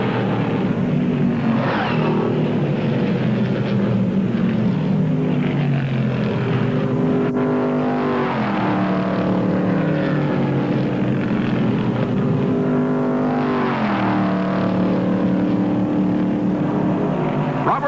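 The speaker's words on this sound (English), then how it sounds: "Rim riding at 145 miles an hour, Fireball Roberts has passed 34 cars in one of the most amazing rides ever seen on a" NASCAR stock cars roar around the track at the 1959 Daytona 500, engines droning loud and continuous with rising and falling pitch as cars pass close by, one after another.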